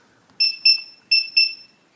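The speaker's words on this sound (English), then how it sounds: "You're going to hear a long beep and see a green flash here, meaning your new master code is now active." A Defiant keypad door lock gives four short, high electronic beeps in two quick pairs, close and clear against near silence.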